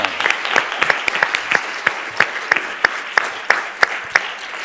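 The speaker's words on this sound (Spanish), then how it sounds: "acabaríamos con un aplauso para los ponentes" Audience applause for the speakers closing an expert panel on care initiatives, with sharp claps standing out in a steady rhythm over a softer bed of clapping that thins toward the end.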